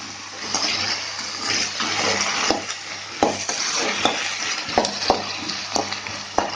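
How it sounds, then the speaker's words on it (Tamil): Brinjal sautés in oil in a pan for a masala kara kuzhambu, with a steady sizzle and repeated sharp scraping taps of a spoon stirring, heard close. "கத்திரிக்காய் நல்லா வதங்கட்டும் ஒரு டூ மினிட்ஸ் வதங்கட்டும்"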